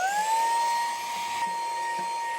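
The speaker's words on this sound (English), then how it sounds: "I don't mention enough, but I love this vacuum machine." A vacuum machine runs with a steady high whine and broad airy roar at a workshop during entryway building work, holding one constant tone throughout with no talk.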